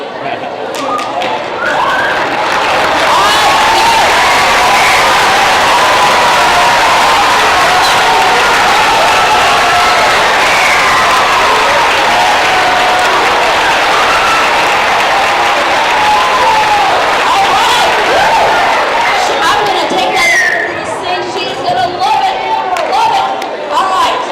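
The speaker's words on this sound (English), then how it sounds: "I want you to stand up and I want you to then clap really hard and say, thank you, Mrs. Olcott" School audience on its feet clapping hard at a middle school pink-out celebration, loud sustained applause with crowd noise that runs unbroken for over twenty seconds before tapering slightly at the end.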